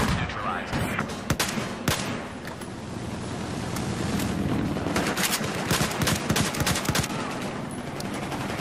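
Rapid automatic gunfire and explosive bursts from the Battlefield 4 beta Siege of Shanghai map, including AK-12 assault rifle and .50 cal turret fire, crackling densely and continuously throughout at close range with a few heavier booms.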